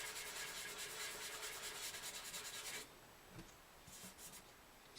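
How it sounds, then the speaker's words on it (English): Dry sandpaper rubs over a crack on an acoustic guitar top in steady, quick back-and-forth strokes, close and quiet, then stops to near silence with a few faint taps and scrapes. "We're sanding dry here right now."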